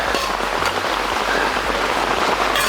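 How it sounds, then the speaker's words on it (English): Rain falls steadily on a winter hot tent, a dense close hiss of drops striking the fabric with no voices. "Now I gotta go out in the rain."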